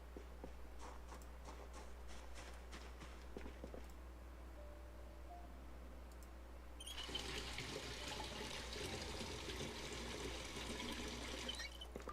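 Water being collected in the video game Project Zomboid, a steady rushing stream from a tap starting partway through over a low constant hum, with no talk.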